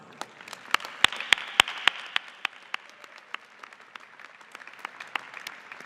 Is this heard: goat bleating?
no